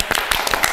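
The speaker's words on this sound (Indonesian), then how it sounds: "Tepuk tangan Keles." A few quick hand claps, about five sharp beats in under a second, come in a fast, even rhythm, close and fairly loud.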